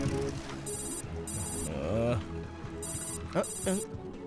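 A telephone bell rings in repeated bursts, four sharp rings with gaps between them, over a busy background where people talk.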